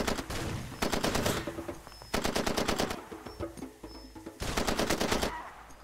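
Rapid automatic weapon fire in the Far Cry 2 shooter, three loud sustained bursts of machine-gun shots with short pauses between them, close and dominant with no talk.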